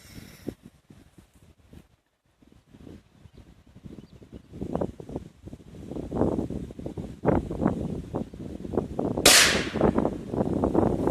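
A firecracker with an enlarged casing goes off in one sharp, loud bang late in the clip, preceded by scattered crackles and rustling, wind-buffeted outdoor noise.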